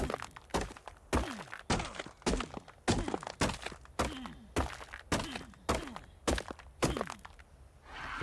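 Rocks being cracked for metal in the video game Ark Survival Evolved: a steady series of heavy thunking strikes, roughly one per second over eight seconds, each a loud percussive hit with a brief ringing tail, and no talking.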